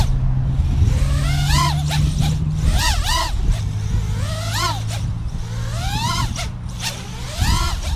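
Carbon fiber propellers on an FPV drone whine with a harsh, wavering pitch that rises and falls as the craft maneuvers close by, over a steady low hum throughout.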